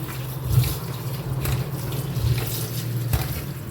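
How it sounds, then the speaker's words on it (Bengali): Cold tap water runs steadily while a banana flower is washed under it, with splashing and occasional louder surges as the flower is moved under the stream. "এবারে মোচাটা আমি ভালোভাবে ধুয়ে নেব ঠান্ডা জল দিয়ে"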